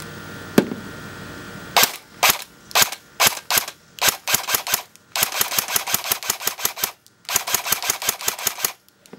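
An STG rifle fires semi-automatic shots at a target 75 feet away, the loud sharp cracks coming singly at first, then in quick, evenly paced strings with short gaps between volleys.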